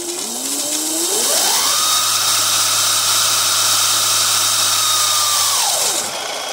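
A Razor dirt bike converted to run on 72-volt drill batteries whines as its electric motor spins up, rising to a steady high pitch and holding it for several seconds before winding back down. A low hum sits underneath, and no one speaks.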